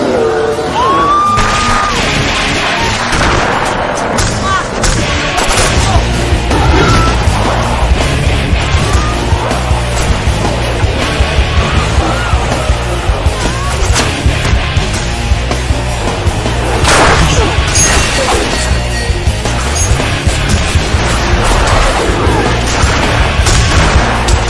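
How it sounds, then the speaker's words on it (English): Zombies are gunned down in House of the Dead video game footage: loud, relentless gunfire and booming blasts pile up with yells and chaotic action noise throughout. "suddenly gameplay of zombies being shot will appear"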